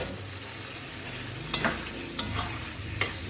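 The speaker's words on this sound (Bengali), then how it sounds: "এবার ভালো করে কষিয়ে দিতে আস্তে আস্তে আলুটা ভালো করে বেশ ভালো করে কষাতে হবে" Potato pieces sauté in a pan for a paneer and cauliflower curry, a steady low sizzle with a few scraping stirs of the spatula breaking through.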